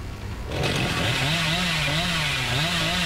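A revving chainsaw in the horror game Dead by Daylight, a loud sustained buzzing engine with a gently wavering pitch that kicks in after a short moment and holds steady to the end.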